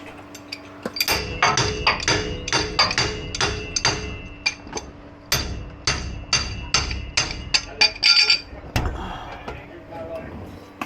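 Repeated loud metallic clangs and thuds from close hammering during a locker install on a Suzuki pickup, struck in irregular bursts with brief pauses between blows.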